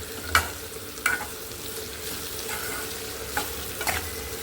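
Onion pieces frying with turmeric and salt for a spiny gourd curry give a steady close sizzle, broken by a few sharp scrapes and clacks from stirring in the pan.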